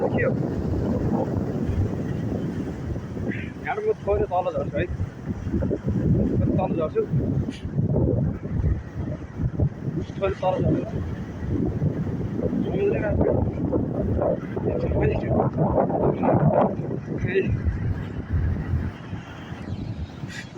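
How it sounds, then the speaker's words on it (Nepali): Strong, cold wind buffets the microphone at the Japanese seaside with boats nearby, a steady rough roar that runs throughout while a person talks over it. "आज अलि हावा बढी छ क्या, चिसो पनि धेरै छ क्या हिजो अस्तिभन्दा।"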